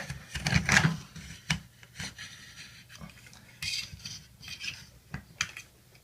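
A razor blade scrapes old silicone caulk along a bathtub in several short, close strokes, rough rasping swipes separated by brief pauses.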